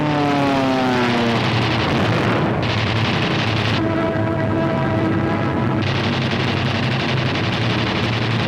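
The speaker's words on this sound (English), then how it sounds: "German fighters attempting to intercept the heavy bomber attack are shot down by P-47s" Propeller engines of World War II P-47 fighter planes roar in a loud, continuous drone during air combat against German fighters, with pitch sweeps as aircraft pass and heavy rumbling blasts throughout.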